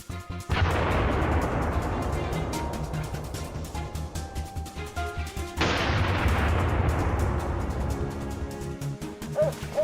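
Two loud gunshots boom during a wild boar hunt in a forest, each sharp report followed by a long rolling echo, with faint rhythmic rustling or footsteps between them.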